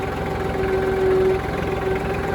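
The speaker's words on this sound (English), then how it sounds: "for those of you who are wondering why this tractor should be just a little higher RPM, I'm trying to keep it quiet" A tractor engine runs at low RPM at a house build site, giving a steady, close idling drone with a faint mechanical hum and no voices.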